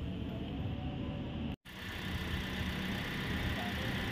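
A used car's engine idles steadily during a pre-purchase inspection, a broad continuous rumble with a brief dropout partway through.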